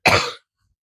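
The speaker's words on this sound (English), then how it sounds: "Still got that nice cough." A single sharp cough, close and loud, lasting under half a second and followed by silence, heard indoors during a resin chiffon crafting session.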